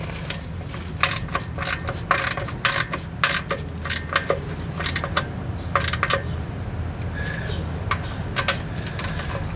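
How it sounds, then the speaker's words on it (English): Metallic ratcheting clicks from a wrench tightening a bolt into the aluminum case of a full-size rear-wheel-drive GM transmission, rapid irregular taps close by over a steady low hum. "I know when I'm tightening into aluminum, like I am here, to be particularly careful."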